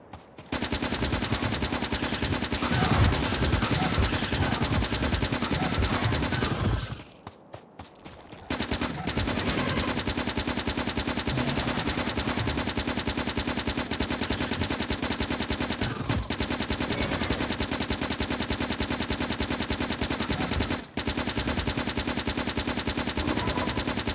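Sustained automatic gunfire from defensive turrets in Factorio, a dense, loud, continuous rattle running almost the whole time, with one brief drop near the start and short gaps later, and no talking.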